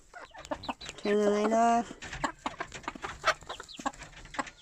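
A pet rooster named Buzzy clucks and crows briefly indoors in a shed, a short voiced call close by, with a person talking softly over and around it.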